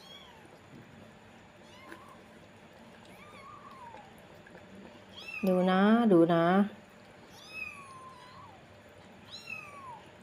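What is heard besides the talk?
newborn kittens and mother cat meowing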